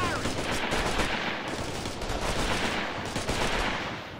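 Rifle and automatic gunfire in the video game Operation Flashpoint Red River, a dense barrage of overlapping shots and bursts, loud and sustained, with distant cracks layered behind the nearer fire.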